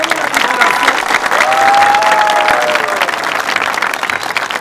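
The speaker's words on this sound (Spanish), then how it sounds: "fuertes los aplausos" A television talent show audience applauds loudly and continuously, dense clapping with a few cheers rising over it.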